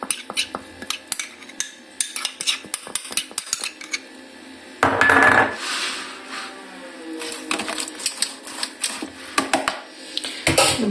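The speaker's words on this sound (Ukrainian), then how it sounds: "Перемішую, перемішую свою заправку і все це додаю в салат" Dishes and cutlery clatter as a homemade salad dressing is stirred and poured over a salad. Sharp clinks and taps come close and fairly loud in irregular bursts, with a denser scraping passage midway and more clatter at the end.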